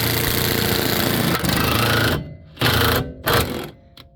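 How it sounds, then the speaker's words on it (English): Impact gun hammering out a rear knuckle bushing on a Lexus GS300, a loud rapid rattling burst lasting about two seconds, then several shorter bursts with brief pauses, close by. "Or unless you're an idiot like me, you just want to use an impact gun."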